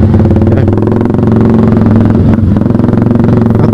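A motorcycle engine drones loud and close while riding, a steady, buzzing hum with slight dips and rises in pitch.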